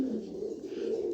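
Pigeons kept for sale as breeding pairs coo in a low, continuous throaty murmur, close and steady throughout.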